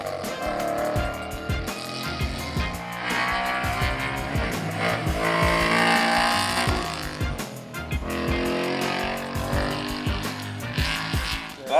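A Ford Performance FP350 car, one of 50 built, is driven hard on a proving-ground track, its engine roaring and revving steadily while tires squeal through corners, loud and close throughout.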